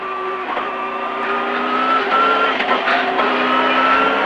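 A Subaru Impreza rally car on the 2000 Fehérvár–Kisbér rally stage slides through a bend, its loud, close engine whine rising and falling as the tires skid and squeal on the surface.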